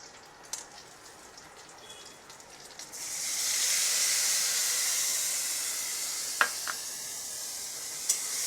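Spices hit a pan of fried green bananas and give a sudden, loud steaming hiss that swells and then slowly fades, with a few sharp clicks from a utensil near the end.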